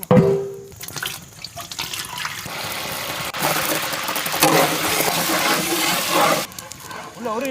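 Water poured and running into a pot for a village-style outdoor lobster boil, a steady rushing and splashing stream that swells midway, with a voice talking briefly over it.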